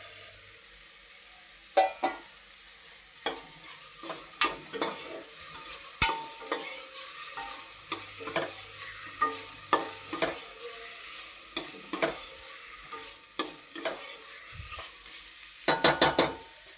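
Washed cauliflower frying in a pan for a pulao, with a faint sizzle under sharp, irregular clinks and scrapes of a spoon stirring against the metal, close by, including a quick burst of taps near the end.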